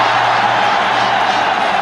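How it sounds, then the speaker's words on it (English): Cricket stadium crowd roaring at a Pakistan versus India Sharjah Cup match in 2000, a dense, steady wall of loud crowd noise filling the whole stretch with no clear breaks. "It's enough to get the crowd roaring."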